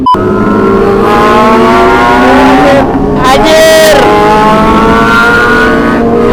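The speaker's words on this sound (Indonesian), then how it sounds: "Tuh knalpot bacot banget dah." A loud, roaring aftermarket exhaust on a Kawasaki ZX-25R or ZX-636 motorcycle revs up and down close by, its engine pitch rising and falling in steady sweeps with no talking.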